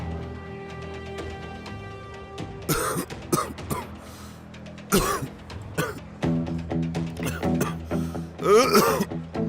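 Repeated harsh coughs and throat clearing in short bursts, fairly close, over soft background music.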